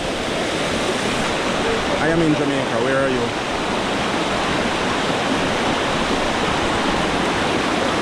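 Dunn's River Falls in Jamaica, heavy water rushing down rock, a loud constant broadband roar close by that fills the whole clip, with a person speaking briefly over it.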